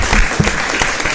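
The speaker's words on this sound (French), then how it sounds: "on applaudit très très fort" A studio audience on a midday live show applauds loudly, dense and continuous clapping up close for the whole moment.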